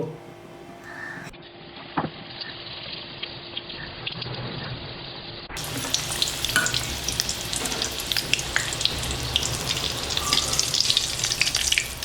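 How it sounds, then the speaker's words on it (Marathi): Chilli vadas dropped into hot oil, a quiet start with clatter, then from midway a loud, dense crackling sizzle of frying that builds steadily to the end, no talking. "आता हिला तेला सोडू"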